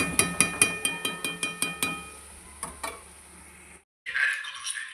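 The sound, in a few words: stirring mango pickle cooking with jaggery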